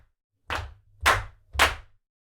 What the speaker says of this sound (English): Oh, snaps and claps.